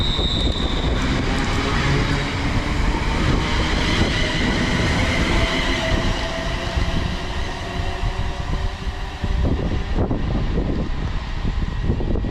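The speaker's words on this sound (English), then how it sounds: "380-103, which is the train that brought us in, is about to leave" A class 380 train departing Newton-on-Ayr station rumbles and clatters steadily nearby, a continuous rolling roar of wheels and machinery with no voices.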